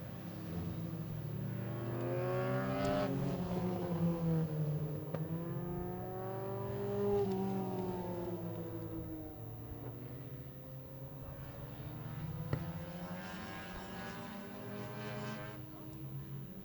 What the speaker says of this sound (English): our youth saloons get back under racing once again